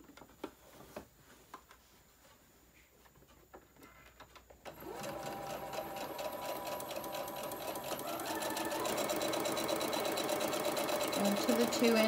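Quiet room sounds and light clicks give way to a sewing machine starting up on a lunch tote bag seam. It hums and ticks steadily and gets louder toward the end. A voice is heard briefly.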